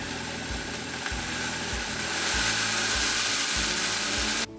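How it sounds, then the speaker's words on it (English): A grinder pulverizes regular black rice into powder with a loud, steady motorized whir, rhythmically pulsing as the grains churn, then cuts off abruptly at the end. "Let us grind this first to a powder."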